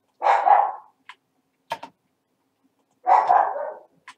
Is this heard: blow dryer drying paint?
no